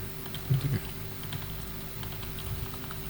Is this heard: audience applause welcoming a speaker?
no